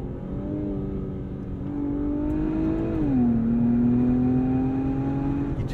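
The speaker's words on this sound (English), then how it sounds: "The power of the Q50 Red Sport will push you back in your seat." From inside a 2023 Infiniti Q50 Red Sport, the engine note climbs steadily under hard acceleration, dips briefly at a gear change about halfway through, then pulls up again. It is heard alone, with no talk.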